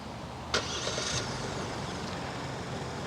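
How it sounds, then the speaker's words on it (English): A 2024 Genesis GV70 3.5T starting up: a sharp click and crank burst, then a steady engine idle with a brief higher whir, heard from close by with no talking. "hold to start the vehicle"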